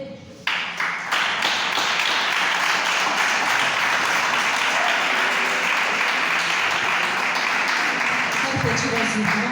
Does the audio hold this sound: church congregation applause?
yes